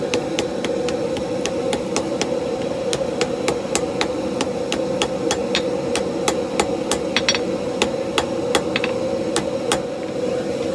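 Steady rapid hammer blows on hot steel as cable Damascus is forge-welded by hand, a regular ringing strike rhythm over a constant low roar of the forge, with no talk.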